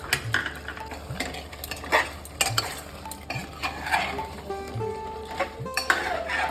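Cut potato pieces frying in a pan for a Kolkata-style mutton biryani, with repeated scraping and stirring clatter over a steady background sizzle, close and moderately loud.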